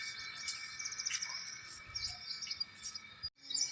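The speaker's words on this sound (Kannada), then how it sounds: "ಗಿಡ ಇರೋದ್ರಿಂದ ಪಕ್ಷಿಗಳ ಚಿಲಿಪಿಲಿ ಸೌಂಡ್ ತುಂಬಾ ಚೆನ್ನಾಗಿರುತ್ತೆ" Birds chirp and tweet in quick, high bursts at a distance in the morning on a rooftop with plants, fairly faint over a quiet outdoor background with a soft insect-like hum.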